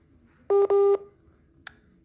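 Touch-tone keypad beeps from dialing a phone call: two close, steady tones in quick succession, then a short faint blip, with near silence around them.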